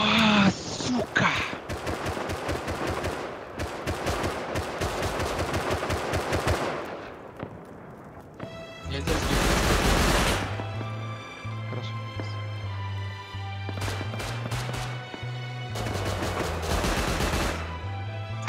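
Auto turret in the Rust survival game firing long, rapid, loud automatic bursts, with a pause and then further volleys, while a voice talks in the background.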